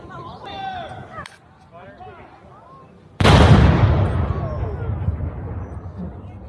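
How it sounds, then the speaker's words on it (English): An artillery gun fires one sharp, very loud blast during a 21-gun salute for King Charles III's coronation at Queen's Park, Toronto. A long, bassy rumbling decay follows, after people talk outdoors. "Alright, so we got the gun salute here."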